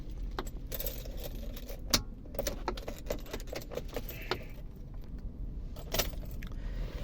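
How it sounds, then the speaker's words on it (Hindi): Keys jangle and click in the ignition of a Toyota Innova Crysta with a faulty ignition cylinder, a series of close metallic rattles and taps over a low steady hum. "मैं अब इसका सबसे पहले आपको एक बार इग्निशन ऑन करके दिखा देता हूँ।"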